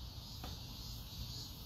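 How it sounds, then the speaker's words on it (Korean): A cicada buzzes in a steady, even drone throughout a short outdoor stretch, fairly faint and continuous with one brief click partway through. "매미가 아주 기똥차게 울죠."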